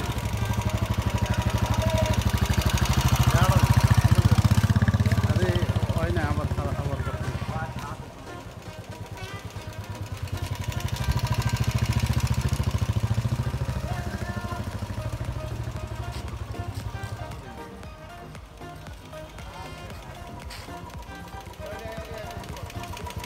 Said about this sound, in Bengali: চলুন এই ফাঁকে এই রয়্যাল এনফিল্ড বাইকটি একটু ট্রাই করা যাক।